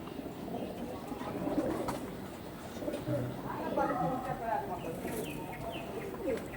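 Pigeons kept for sale cooing softly in repeated low, rolling calls, close by, with a person talking over them much of the time.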